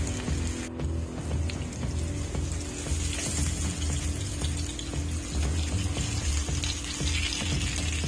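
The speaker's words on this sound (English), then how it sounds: "So we're gonna just fry these, and as soon as they're golden brown" Vegan oxtail pieces frying in hot oil, a steady close crackling sizzle over a low, constant hum.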